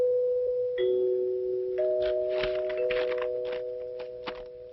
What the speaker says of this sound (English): that there music is what you call chimes